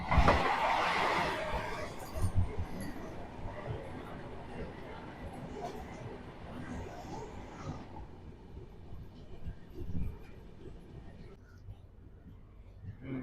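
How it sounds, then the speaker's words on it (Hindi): Vande Bharat Express, the Chennai–Bangalore return service, passing near Chennai Central as a steady rumble with rolling rail noise, loud at first and then easing to a lower drone, with faint voices in the background. "ये देखिए सामने से आ रही है वंदे भारत एक्सप्रेस"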